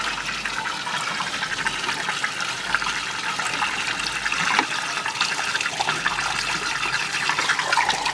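Water pours steadily from a control tap downstream of a Hydro Fiber 4000 filter, a continuous close rushing splash that holds at an even level throughout with no talking.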